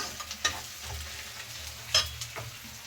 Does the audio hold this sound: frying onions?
yes